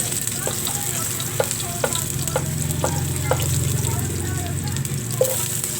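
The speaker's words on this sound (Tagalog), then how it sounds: "Sa mainit na wok may kunting cooking oil. Ilagay ang garlic crust." Garlic frying in a little cooking oil in a hot wok gives a steady sizzle with sharp spatula clicks against the metal, loud and close, with a low hum running underneath.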